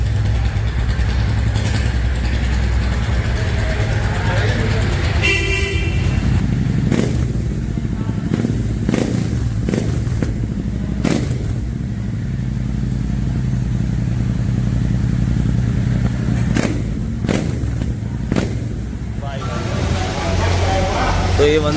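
A Royal Enfield Continental GT650 twin, newly fitted with wide 17-inch alloy wheels and fat tyres, runs steadily at idle and low revs throughout, loud and close, with a few clacks and people talking over it.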